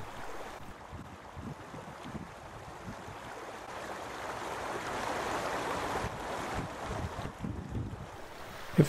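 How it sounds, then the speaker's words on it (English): River Bride flowing behind buildings and under bridges on the north side of Cork City, a steady broadband wash of moving water with some wind, continuous and moderately loud throughout with no talk. "It flows quietly behind buildings and under bridges"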